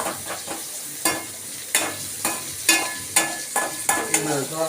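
Mustard seeds crackle and sizzle in hot oil, a steady frying hiss broken by about ten sharp pops and spoon scrapes spaced roughly every half second, close and fairly loud with no talking.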